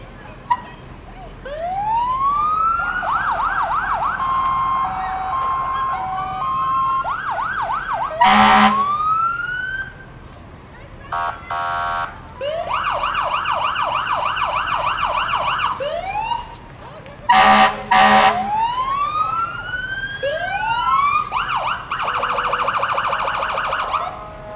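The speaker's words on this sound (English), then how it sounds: "including loud horns and sirens." Wailing sirens rise and fall continuously at a Fourth of July parade, with short loud horn blasts cutting in a few times; loud and close, no talking.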